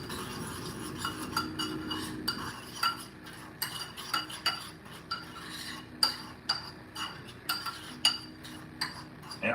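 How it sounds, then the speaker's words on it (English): Spoon stirring a lamb meatball gyro mixture in a bowl, with repeated clinks and scrapes of metal against the bowl in an irregular rhythm, close and moderately loud, with light rustling underneath. "Give it a nice little stir."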